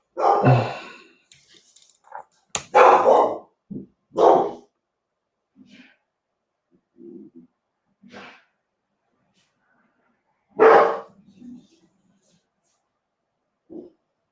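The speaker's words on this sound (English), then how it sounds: "My dogs are about to start barking because my groceries are being delivered" Indoor dogs bark in loud, scattered bursts: a cluster of sharp barks early, then isolated woofs and short yips spread across long quiet gaps, with faint whimpers between.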